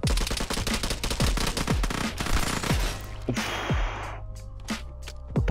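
A first-person shooter weapon fires a rapid string of loud, sharp shots, a burst of several in quick succession, then a pause with a few scattered shots toward the end.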